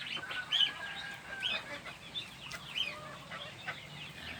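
White bantam chickens cluck and chatter in short, irregular bursts, fairly close, with a few sharper squawks mixed in and no talking.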